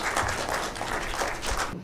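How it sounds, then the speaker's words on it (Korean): Brief, fairly quiet applause from an audience at a rice-cake cutting during a book launch ceremony, a steady patter of many hands that cuts off at the end. "하나 둘 셋 할 때 커팅 시 큰 박수로 축하해 주시기 바랍니다"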